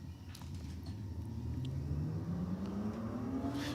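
A Ford and a Holden Commodore drag racing car accelerating down the strip, a deep rumbling engine note rising steadily in pitch, loud and continuous from a distance.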